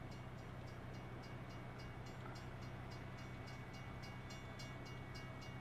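A passing train in the American Truck Simulator video game, a steady rumbling roll with regular clacking beats as the cars go by, close and constant, with no talking.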